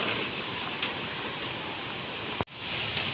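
Steady rain falls on a small farm during a corn harvest, making an even, dense hiss, with one brief sharp interruption near the end.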